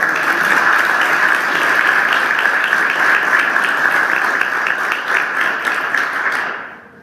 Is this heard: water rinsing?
no